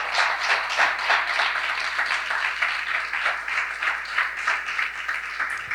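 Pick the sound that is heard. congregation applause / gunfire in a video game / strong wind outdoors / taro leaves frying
congregation applause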